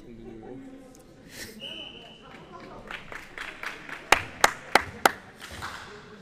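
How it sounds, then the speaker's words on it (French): A few people at a youth handball match clap a handful of sharp, separate claps, loud at first and then fading, under faint background voices in a gym. "on applaudit évidemment Morgan"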